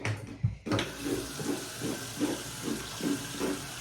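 Water runs from a tap to wet a makeup beauty blender, a steady splashing stream close by with soft rhythmic patters as the sponge is squeezed under it, no voices.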